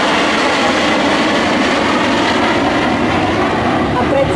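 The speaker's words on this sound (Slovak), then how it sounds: "A toto je záverečný prelet ukážky manévrového vzdušného boja stíhacích lietadiel MiG-29S." MiG-29S fighter jets making the closing flyover of a dogfight display at an air show, a loud, steady, broadband jet roar close by that fills the whole stretch, with an announcer talking under it.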